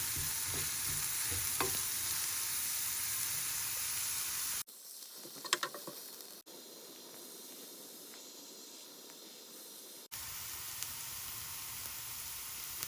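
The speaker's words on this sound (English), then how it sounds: "we are caramelizing one onion for burger recipe" One onion caramelizing in a frying pan for beef burgers, a steady close sizzle and hiss broken by cuts into quieter stretches with light stirring clinks, no talking.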